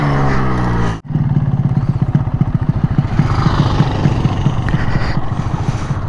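A Yamaha RX 135 motorcycle engine runs close by after a brief dropout, a loud, fast, rhythmic two-stroke putter with steady clattering pulses throughout.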